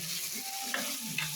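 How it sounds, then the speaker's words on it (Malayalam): Food frying in a pan is stirred with a soft scraping, over a steady low sizzle, with a few brief clinks near the end of a short stretch. "നല്ലവണ്ണം വീണ്ടും നമുക്ക് ഇളക്കി കൊടുക്കാം."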